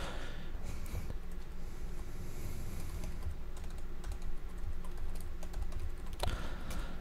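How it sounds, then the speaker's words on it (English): Keys clatter on a computer keyboard as someone types into a chat room during a live game stream, giving quick, close, irregular clicks and taps with a few sharper keystrokes near the end. "let me type something into the chat room."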